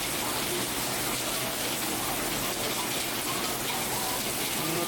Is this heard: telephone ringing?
no